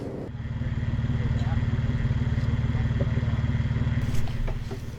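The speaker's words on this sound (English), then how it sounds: "I have the customer in the vehicle just giving it a little bit of throttle" A Toyota Land Cruiser engine held at light throttle during an off-road winch recovery on a wooded trail, giving a steady, throbbing mid-pitched drone with a small swell near the end.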